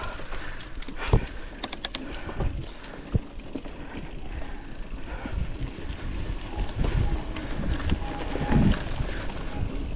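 Wind gusts buffet the microphone on a mountain bike trail, a rough, uneven roar with bumps and rattles from riding, no clear speech.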